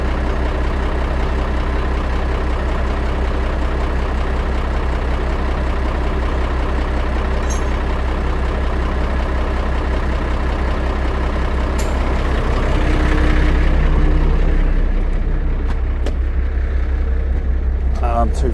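A truck engine idles at a blast pit in a steady, close low rumble, with a voice talking over it and a faint air hiss near the end.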